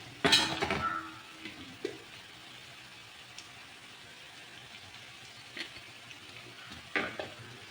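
Bitter gourd sautés in a pan for pickle, with a quiet, steady frying hiss and a few scattered clinks and scrapes of a utensil stirring, loudest near the start.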